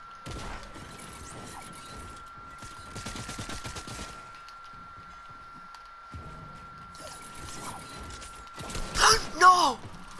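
Video game gunfire in Fortnite, bursts of rapid shots in several clusters separated by quieter gaps, with a steady electronic tone running underneath and louder crashing hits near the end.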